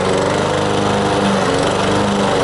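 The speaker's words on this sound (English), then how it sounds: "I'm glad the lawnmower went again." A lawn mower engine runs loudly and steadily up close, a constant droning rattle with no pauses or voices.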